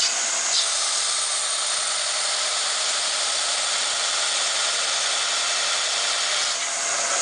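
Mick Strider's belt grinder runs steadily, a continuous bright hiss and whir of the abrasive belt with no letup and no voices.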